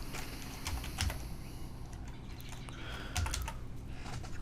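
Fast typing on a computer keyboard, close and clear, with quick irregular key clicks and a few heavier taps throughout; no voices.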